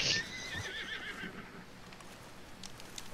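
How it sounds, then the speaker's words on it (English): A horse in the video game Red Dead Online gives a loud, shrill whinny at the start, followed by a softer trailing snort and faint hoof clops over quiet background noise. "My horse tried kicking you."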